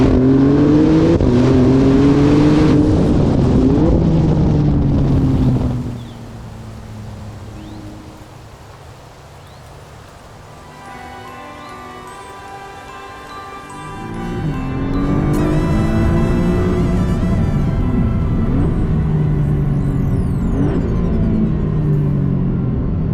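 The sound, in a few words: Maserati MC20 engine revving to 7000 rpm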